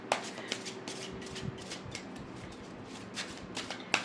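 Tarot cards shuffled and drawn by hand, a soft papery riffle with scattered light slaps and flicks, close and fairly quiet, no voices.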